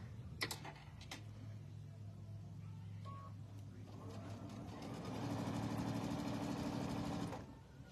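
A domestic sewing machine with its needle set to center and a laser guide on stitches a quilt block from corner to corner, a steady mechanical whir building near the end after a few clicks and soft handling noises.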